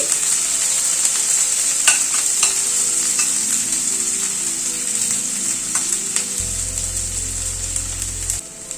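Thin onion rings fry on high flame in a wok, giving a steady, close, loud sizzle with occasional stirring scrapes and clinks, and a low hum joining near the end.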